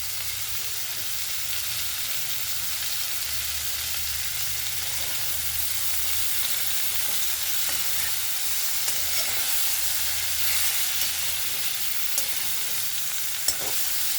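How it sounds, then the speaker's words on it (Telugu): Bitter gourd (kakarakaya) slices frying on a low flame in a pan, a steady soft sizzle running throughout with occasional faint stirring clicks, no talking. "సిమ్లో పెట్టుకుని వేగించుకోవాలి."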